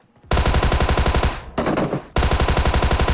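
Thompson submachine gun in PUBG Mobile firing loud, rapid full-auto bursts, close up, with one brief pause and a shorter burst before the sustained firing resumes.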